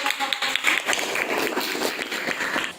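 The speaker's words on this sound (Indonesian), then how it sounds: "Oke, tepuk tangan dulu." Students in a classroom applaud together in a steady, moderately loud patter of claps, with voices mixed in.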